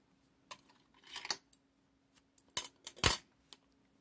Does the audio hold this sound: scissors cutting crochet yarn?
yes